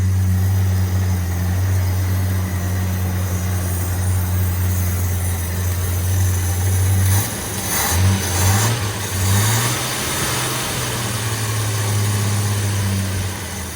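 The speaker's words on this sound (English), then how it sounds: "The motor sounds so quiet." An XE Ford Falcon engine idles steadily after sitting unused for 13 years, a low, even rumble that dips briefly and picks back up midway, with no talking over it.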